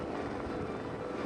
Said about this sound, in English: The RCMP helicopter with the dog team spotted Mark on the edge of Cheakamus Lake.